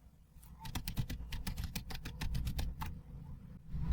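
Rapid keystrokes on a computer keyboard as a web address is typed into a browser, a steady run of close, crisp clicks over a low background rumble.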